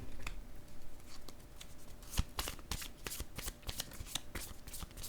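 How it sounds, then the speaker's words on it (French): Tarot cards being handled and laid down, a steady close rustle of card shuffling with a run of sharp flicks and slaps in the second half, no voices over it. "Je vais déposer une carte sur négociation ici."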